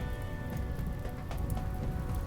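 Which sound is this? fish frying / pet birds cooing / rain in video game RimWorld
rain in video game RimWorld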